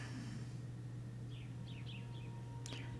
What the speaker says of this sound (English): I hear birds chirping.